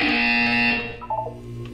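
A harsh electronic buzzer from the Portal 2 video game blares steadily for under a second, then gives way to a few short tonal blips over low game ambience.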